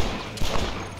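A quick burst of rapid gunfire crackles over a noisy background, a couple of sharp volleys within a second, in the video game Red Dead Redemption.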